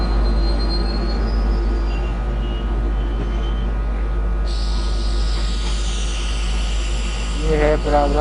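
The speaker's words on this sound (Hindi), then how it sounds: "ये है प्रयागराज जयपुर एक्सप्रेस।" Prayagraj Jaipur Express at the station: a steady, close rumble of train wagons with high metallic wheel squeals rising toward the end, and voices in the background.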